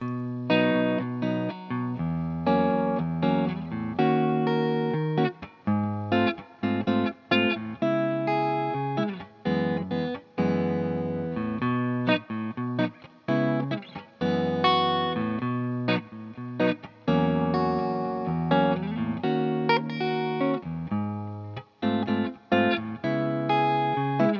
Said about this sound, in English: if I add a little bit more rhythm to that with this sort of pop bossa nova feel